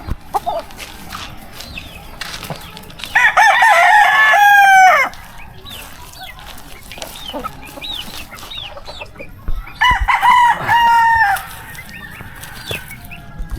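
A Gilmore breed gamecock at a backyard farm crows loudly and close by twice, with softer clucks and farmyard noise in between.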